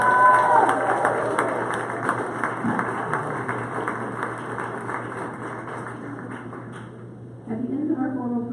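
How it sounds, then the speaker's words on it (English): Sustained audience applause and clapping at an awards ceremony for award recipients, a steady wash of many hands from a sizable crowd that thins toward the end before a voice begins speaking. "please, one more round of applause for all of our award recipients"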